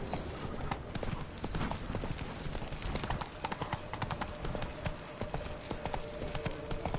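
Horse hooves in a video game clip-clop steadily at a brisk, even gait, loud and close, mixed with other game sounds and a faint chime-like tone.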